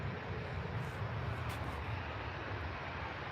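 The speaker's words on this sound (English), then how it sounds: "They seem to be taking off really, really low down this morning." A jet airliner takes off low from Manchester Airport, its engine roar filling the air as a steady, broad, continuous rumble with no talk.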